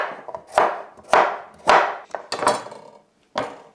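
Unpeeled organic carrots are sliced with a knife in about six firm, distinct cuts. Each thud lands on the board at an uneven pace, close and fairly loud, with short gaps between strokes.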